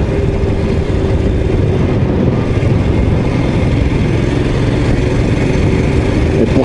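A Royal Enfield Scram 411 motorcycle's engine runs with a loud, steady low rumble that stays constant throughout, close up with no talk, mixed with heavy wind noise.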